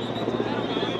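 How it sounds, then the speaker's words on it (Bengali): A helicopter flies in overhead at the scene of a plane crash in Uttara, giving a steady, loud, throbbing rotor drone that holds level throughout. "একটি হেলিকপ্টার উড়ে আসছে"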